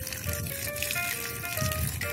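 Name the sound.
water flowing from a garden hose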